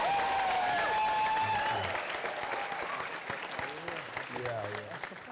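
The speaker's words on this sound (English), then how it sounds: "by a combination of applause, yelling, and cheering, who was thrilled with Secretary Castro's performance last Wednesday?" A town hall audience bursts into loud, sustained applause with yelling and cheering for former Secretary Julian Castro, a dense roar of clapping and shouting voices that fills the space for several seconds.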